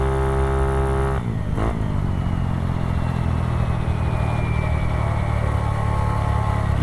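A Honda Ruckus scooter with a swapped-in 171cc engine rides along with a loud, close engine drone and a quick rev change near the start, then a steady buzzing tone and wind rush as it cruises.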